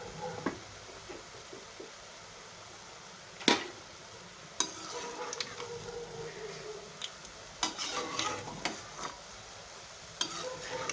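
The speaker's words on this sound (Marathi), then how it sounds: "एवढ्या मिरची भजे आहेत एवढी तळून घेऊयात" Mirchi bhaji, chili fritters in batter, frying in hot oil in a home kitchen: a steady soft sizzle runs throughout, broken by several sharp clinks and taps of a utensil, with no talk.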